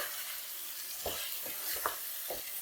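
Chicken pieces sizzle steadily in a hot pan over a high flame, with a constant frying hiss and several distinct scraping clunks from stirring spaced about half a second apart.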